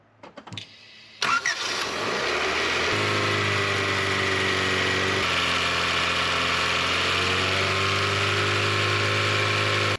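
A 1988 Honda CRX Si engine cranks, catches and settles into a loud, steady idle, with a few clicks before starting and a constant hum filling the rest.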